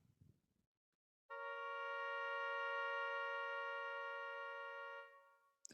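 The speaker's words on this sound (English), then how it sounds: "The first one's a minor third." A minor third interval sounds as two tones held together in one steady, rich sustained chord lasting about four seconds before fading, after a brief faint rustle.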